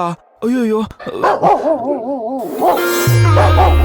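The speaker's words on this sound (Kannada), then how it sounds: "ಎಲ್ಲೋ ದೂರದಲ್ಲಿ ನಾಯಿ ಬೇರೆ ಕೂಗ್ತಾ ಇದೆ" A dog howls somewhere in the distance at midnight, a wavering, drawn-out wail with a voice exclaiming over it and dramatic music swelling at the end.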